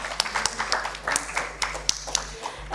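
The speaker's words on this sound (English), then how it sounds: "please give a clap for the Dr. Narayama who really helped us to set this meeting" A small audience at a conference workshop hall gives a clap, heard as sparse, distinct hand claps from a few people rather than full applause, with some talk in the background.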